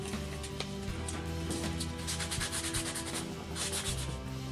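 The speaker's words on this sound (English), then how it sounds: "you're going to take your sandpaper, and you're going to sand the edges." Sandpaper rubs along the edges of a paper board craft, giving a quiet, continuous scratchy rasp in short repeated strokes, alone without talk.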